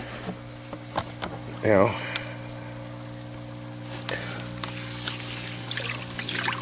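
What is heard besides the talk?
stirring liquid plant nutrient brew in a container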